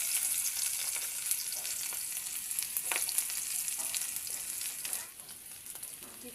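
Paste frying in mustard oil, a bright steady sizzle close up with scattered stirring scrapes, easing slightly toward the end.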